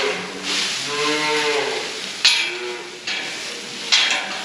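Cattle and calves moo on a farm, several long, overlapping lowing calls close by with a couple of sharp metallic knocks between them.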